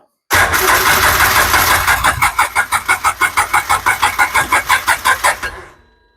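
Farm equipment engine starting after air is bled from the fuel system: a loud cranking burst catches into a rapid, rhythmic chugging idle that sputters for a few seconds and then dies away.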